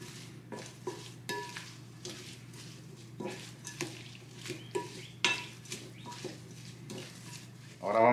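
A utensil stirs finely chopped serrano chile into a Mexican shrimp cocktail, making repeated light clinks and scrapes against the bowl at an uneven rhythm, close and fairly quiet.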